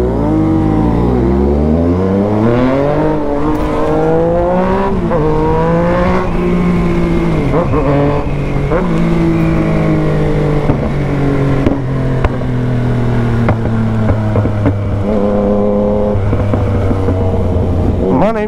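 A Honda Hornet and a Yamaha MT-09 motorcycle ride through a neighborhood, engines loud and close, revving up through repeated gear changes with rising and falling pitch over a long run.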